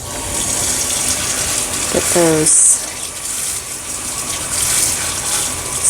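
Tap water gushes and splashes over foraged stevia leaves to start a natural dye bath. A steady watery rush continues throughout, with a brief spoken phrase partway through.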